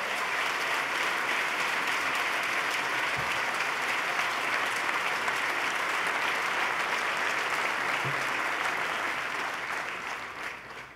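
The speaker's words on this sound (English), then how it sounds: "Let's give him a big round of applause and thank Sean Donovan for his partnership." Large audience at the 2014 New York State of the State address breaking into a big, sustained round of applause, a dense roar of clapping that tapers off at the end.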